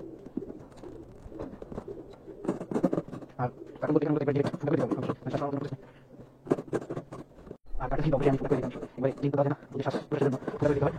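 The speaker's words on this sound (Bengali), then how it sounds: "এখানে যেই কবুতরগুলো দেখতেছেন এগুলো হচ্ছে গ্রিজেল" Grizzle pigeons coo in repeated low, throaty phrases at close range, heard under and between nearby talking.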